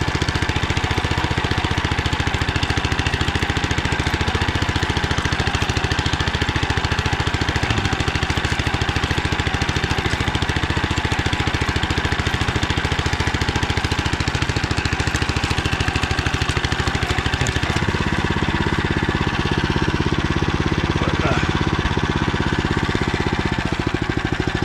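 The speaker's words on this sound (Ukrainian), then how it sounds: "Мотоблока великий плюс те, що він може кататися по вузьким дорогах." A walk-behind tractor engine runs steadily on a narrow rural track through overgrown ravines, a loud continuous mid-pitched drone with a shift in tone near the end.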